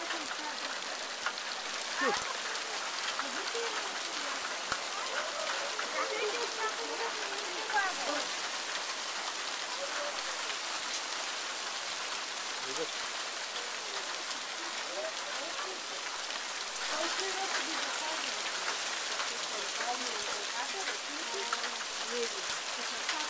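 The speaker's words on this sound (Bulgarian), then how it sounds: "То се усили градушката, я гледай какво стана." Hail falls steadily in a dense, even patter on surfaces nearby, with faint voices now and then underneath.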